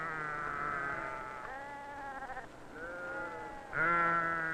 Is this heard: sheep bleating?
yes